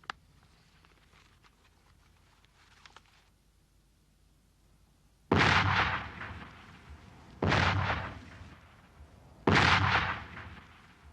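Artillery firing high-explosive shells at an enemy dug in at a wood's corner: three loud, heavy broadband blasts a couple of seconds apart, each with a short rumbling tail, following a quieter stretch of faint field noise.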